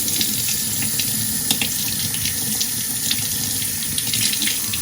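Tap water runs steadily into a sink while scallops are washed, a continuous close splashing stream with small clinks and knocks of handling scattered through it, no talking.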